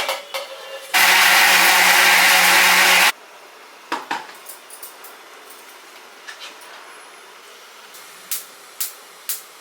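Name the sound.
mixer grinder blending carrot with milk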